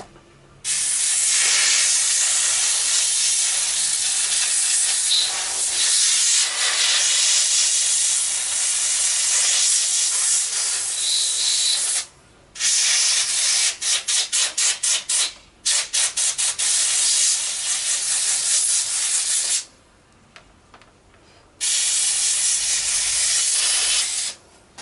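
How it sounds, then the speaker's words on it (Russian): Compressed air blasting dust out of the air filter and cover of a Yamaha Grand Majesty scooter, loud sustained hissing bursts broken by short pauses and rapid pulsed spurts, with no talk. "продуем фильтр и крышку"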